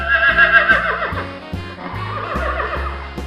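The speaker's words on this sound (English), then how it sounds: "wow, horse. This is a grey color horse, guys." A grey farm horse lets out a long, loud, wavering neigh that breaks into shaky, rising and falling whinnies, heard up close without voices.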